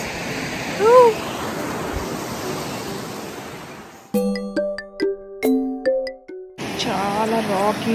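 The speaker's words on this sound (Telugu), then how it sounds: "అయితే వాటర్ సౌండ్ కూడా బాగా వినిపిస్తున్నట్టుంది." Water flowing along a rocky hiking trail in Australia gives a steady broad rush for about four seconds, then drops out behind a chiming tone sequence before returning at the end.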